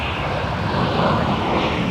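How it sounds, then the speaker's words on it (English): Airbus A321 jet taxiing at MSP airport in winter, a steady broadband engine roar that holds at an even, moderately loud level throughout with no voices. "A321s taxiing on Mike."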